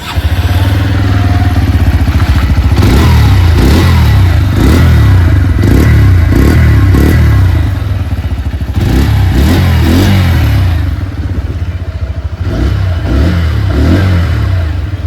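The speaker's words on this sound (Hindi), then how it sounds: "आइए अभी सुन लेते हैं इस बाइक की एग्जॉस्ट नोट।" Exhaust note of a 2026 Bajaj Pulsar 125 motorcycle, loud and close, with a run of repeated sharp throttle blips and revs, a brief dip, more revving, then a settling idle.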